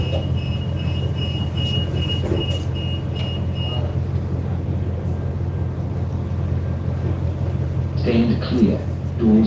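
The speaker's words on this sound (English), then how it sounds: "this train is always stopping all stations between Adelaide and Port Dock" Passenger train on the Port Dock line standing at an Adelaide suburban station, a steady low rumble and hum of the railcar's engine with faint tones, a brief electronic beep, then chime-like tones near the end.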